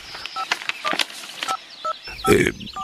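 A telephone number is dialed on a keypad, a quick irregular run of clear DTMF tone beeps with short pauses, followed by a brief burst of clicking handset noise near the end.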